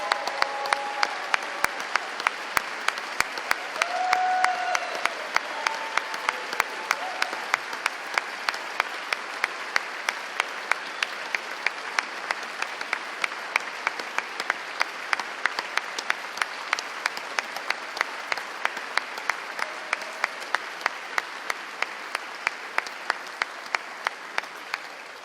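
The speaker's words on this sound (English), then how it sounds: "Let's give all these kids a round of applause." Sustained applause from an audience at the Missouri governor's 2023 State of the State address, honoring a group of daycare children, with dense, steady clapping that carries on for the whole stretch and a faint voice briefly heard underneath.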